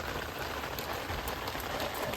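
Steady, dense rain pours down over an outdoor grill area where a brisket is smoking, a constant hiss of drops close by with no talk and no break.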